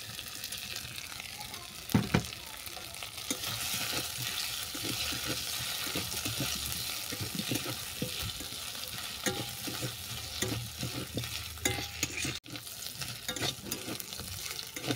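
Potatoes and bitter gourd frying with spices in a pan, a steady hiss of oil under repeated scraping stirs, a few knocks of the utensil and a faint murmur of voices.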